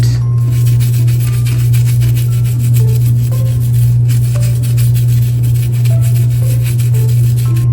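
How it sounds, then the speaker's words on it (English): Close, steady rubbing and scrubbing on a 1988 Superstar Barbie doll, a continuous rasping friction over a loud constant low hum, with no talking. "Any extra dirt, just scrub it away."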